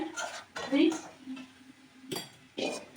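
A metal karahi is handled on the stove while cooking khichuri: scattered clanks and clinks of the pot and utensils, fairly faint, with a voice speaking between the knocks.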